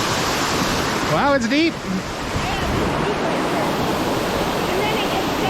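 Steady roar of a waterfall on a hike to White Owl Falls, a loud continuous rush of water close by, with a person talking briefly over it.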